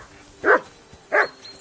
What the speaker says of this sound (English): That barking was a pain in the ass.